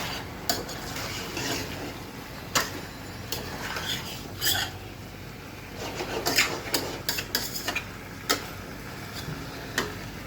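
Chicken stir-frying in an uncovered pan, with irregular scraping and clinks of a spatula against the pan over a faint sizzle. The sounds are fairly quiet and come in scattered bursts.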